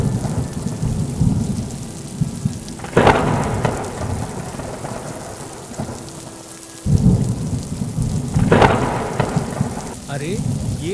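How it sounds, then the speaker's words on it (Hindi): Heavy rain pours steadily in a forest while two loud thunderclaps crack and roll, the first around three seconds in and the second near eight and a half seconds, each rumbling down into the downpour. "तभी तेज बारिश शुरू हो गई।"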